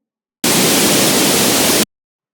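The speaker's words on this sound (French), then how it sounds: "On va choisir cette fois bruit et on laisse le bruit rose." Pink noise generated in Audacity sounds as a loud, steady broadband hiss with a deeper, rumbling weight than white noise, starting and stopping abruptly after about a second and a half, with silence either side.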